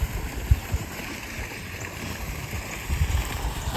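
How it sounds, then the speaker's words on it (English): Steady rushing waterfall in the New England woods in autumn, a continuous broad wash of water with faint insect chirping and occasional soft low bumps. "Obviously we hear the waterfall and the bugs chirping"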